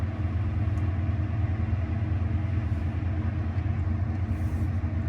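A Tesla Cybertruck shifting into drive and rolling: a steady, loud low rumble and hum that stays even throughout, with no voices.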